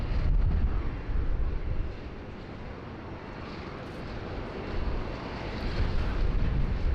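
A Qantas Boeing 737 in special Aboriginal livery at Sydney Airport gives off a steady, moderate jet rumble with wind buffeting, rising and easing in loudness, with no voices.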